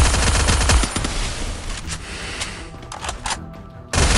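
MP5 fire in the Free Fire battle royale game: a loud rapid burst of shots, then quieter scattered gunfire, with another sharp burst cutting in at the end.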